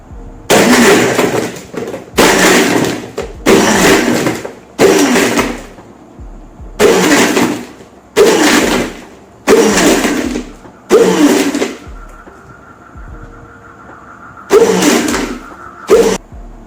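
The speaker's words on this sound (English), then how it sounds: "And then blend it." A blender runs in repeated short bursts while blending a Cadbury chocolate milkshake, roughly ten loud pulses of about a second each separated by brief pauses, close and with no talking.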